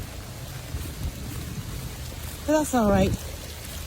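Steady rain falls outside on a chore day, a constant soft patter with low rumble underneath, while a person speaks briefly near the end.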